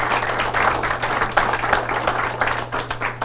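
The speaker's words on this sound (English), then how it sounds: "let's give them all a big round of applause real quickly." Audience at a Homeland Security town hall meeting applauding first responders, a loud dense burst of clapping that fills the whole moment alone, with no talk over it.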